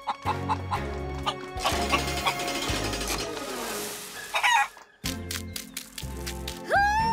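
Cartoon chickens cluck and squawk over bright background music in a kids' animated show, with a crowing-like call and playful sound effects; fairly loud and busy, no talking heard.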